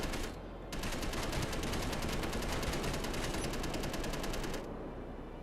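Rapid automatic gunfire from Space Engineers, a dense steady stream of shots lasting several seconds over a constant loud background roar, stopping near the end while the rumble continues.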